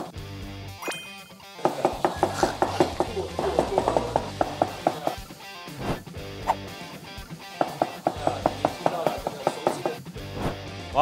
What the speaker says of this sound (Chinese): 听到了这个熟悉的这个剁刀的这个声音